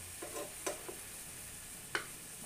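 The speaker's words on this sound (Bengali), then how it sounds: "এদিকে দেখুন আমি উল্টিয়ে দিলাম মাংসগুলো" Meat pieces frying in a pan as they are turned over: a faint, steady sizzle broken by a few soft scrapes and clicks from the utensil.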